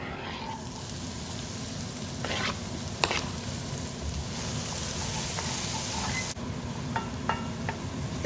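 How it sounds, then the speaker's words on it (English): Diced onion sizzles in a hot pan with a steady close hiss, broken by a few clanks and scrapes of stirring. No one speaks. "But I'm going to put my onions in here. So I've diced up an onion."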